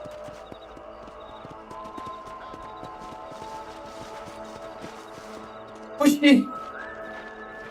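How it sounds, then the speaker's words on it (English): A horse in a video game trots off with rhythmic clip-clop hoofbeats under game music and a voice, followed by a short neigh near the end. "Meu cavalo indo embora."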